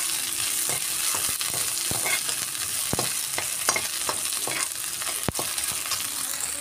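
Garlic and onion sauté in a pan for chicken or pork afritada, a steady close sizzle broken by sharp clicks and scrapes of stirring, with no talk.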